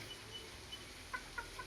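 Chickens in a coop give a few soft, short clucks and chirps, faint against a steady background hiss, with two slightly louder calls near the end.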